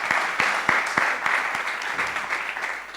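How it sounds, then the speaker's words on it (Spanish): A seated audience at a Spanish book presentation about the cheese sector applauds the authors, a short burst of close, crisp clapping with a few sharp individual claps standing out. "un aplauso"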